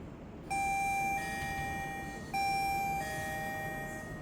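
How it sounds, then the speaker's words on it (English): An AliExpress smart digital door lock panel sounds its doorbell chime twice, a bright two-tone ding-dong with ringing overtones, close and loud over a low background hum. "Press the doorbell, Naila."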